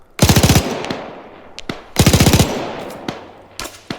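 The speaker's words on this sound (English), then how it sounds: "He's shooting back." Two sharp bursts of automatic machine gun fire from the video game Arma 3, each a rapid string of loud shots with a long echoing tail, followed by scattered single distant shots.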